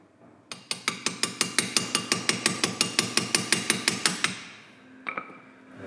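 Metal tool blows tapping a grease cap off a Fiat 500 wheel hub: about twenty sharp, ringing strikes in a fast, steady rhythm, close and loud, then a pause and one or two last taps.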